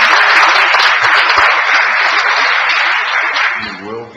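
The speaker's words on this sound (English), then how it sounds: "would you please join me in a round of applause for Jan?" A council meeting audience breaks into steady, dense applause that holds for a few seconds and then tapers as a voice begins speaking.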